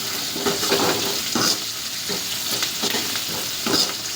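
Curry leaves hit hot oil while a black-eyed pea and dry fish curry is cooked, giving a loud, continuous sizzle with stirring and scraping pulses rising and falling throughout.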